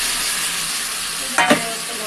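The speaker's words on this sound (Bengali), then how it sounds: "এইটাকে একটু ভালো করে ভেজে নিতে হবে" Spinach chochchori sizzles steadily in fish oil in a pan, a constant hiss broken by one short scrape of a spatula stirring it, close up.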